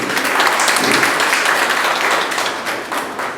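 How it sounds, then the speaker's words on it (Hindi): A roomful of people at a book launch gives loud, dense applause to welcome Dr. Prabhashankar Premi, a senior writer, a thick continuous wash of clapping close and full that tapers slightly toward the end. "उनका जोरदार तालियों के साथ स्वागत करती हूँ"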